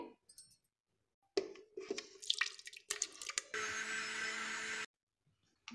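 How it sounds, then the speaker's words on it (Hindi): Yogurt (curd) is whisked for Indian kadhi, beaten with a whisk in a bowl: quick clattering, splashy bursts come in uneven spurts, with a steadier churning rush in the middle and short silent pauses between. "सबसे पहले हम दही को फेट लेंगे"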